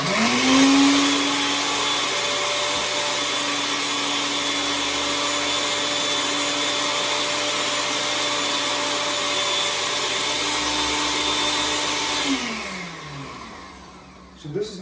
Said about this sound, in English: I'm going to grind all this up into a powder.